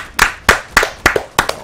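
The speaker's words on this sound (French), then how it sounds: "On l'applaudit." Five distinct hand claps come in a slow, spaced rhythm, each close and fairly loud, with no voices.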